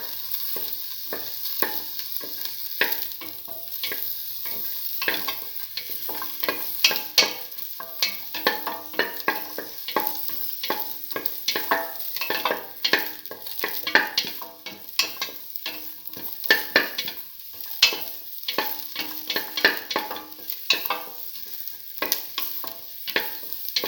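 Shallots sautéing in a pan for a red lentil and bottle gourd dish, stirred with rapid, repeated scrapes and clicks over a soft continuous sizzle, close and moderately loud with no voices.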